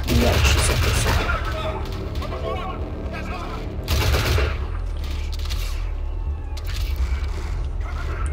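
Rapid electric gunfire from a sci-fi video game shooter, with energy weapons that run on electricity instead of ammo, crackling in dense continuous bursts with brief pauses, loud and close under a player's voice.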